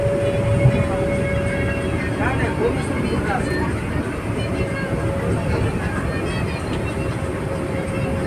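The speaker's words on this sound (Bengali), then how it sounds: "ট্রেন ছেড়ে দিল, ঠিক টাইমেই ট্রেন ছেড়েছে।" A Vande Bharat train departing Puri in the rain gives a steady, loud rumbling roar with a faint constant whine, running continuously throughout with no clear breaks.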